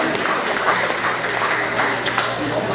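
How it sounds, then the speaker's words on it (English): A crowd applauding steadily at a community meeting, a dense wash of clapping that holds for a few seconds, with voices mixed underneath. "Clap it up for Mr. Wu, the manager."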